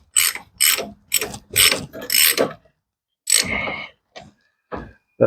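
Ratchet tightening a nut on a Yamaha DT175 motorcycle, several quick bursts of sharp clicking strokes close up, then a pause and a few shorter, sparser clicks.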